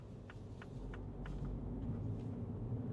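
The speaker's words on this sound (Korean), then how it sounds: "노면 소음은 좀 심하게 들려요." Road noise inside a Mini Cooper 3-door hatchback at speed forms a low, continuous rumble filling the cabin, steady and moderately loud, with faint light ticks over it.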